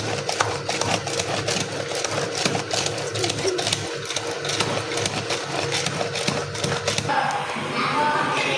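A wet grinder churns soaked rice and lentils into a coarse batter for crispy adai dosa, giving a continuous mechanical rumbling whir with rapid clattering pulses throughout.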